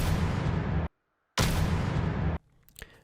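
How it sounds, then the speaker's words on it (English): The gunshot that kills Uldren in Destiny 2, two heavy booming blasts about a second long each with a brief silent gap between them, followed by faint low rumbling. "here is the sound you hear of the gunshot that killed Uldren"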